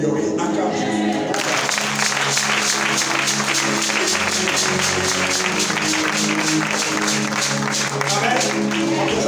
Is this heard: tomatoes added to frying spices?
no